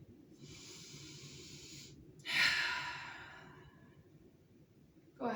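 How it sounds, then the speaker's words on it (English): A slow deep breath during a yoga and mindfulness session: a soft airy inhale followed by a longer, louder exhale that fades out, close and alone with no talking. "Let's take a nice deep breath."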